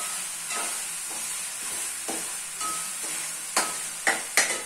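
Minced meat (keema) frying in a pan for an Eid meal, a steady sizzle broken by a few sharp scraping stirs toward the end, with no talking.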